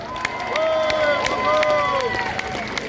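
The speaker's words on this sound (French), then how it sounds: "Applaudissons-les très fort." Outdoor crowd at a patriots' rally in France cheering and clapping, with whistles and shouts rising over a steady roar, fairly loud and close throughout.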